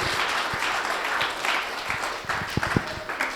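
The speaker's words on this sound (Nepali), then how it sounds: "आउनुहोस् ताली बजाएर धन्यवाद देऊ" A church congregation at a New Year service claps together in a dense, continuous round of applause, moderately loud and rising to a few sharper bursts near the end.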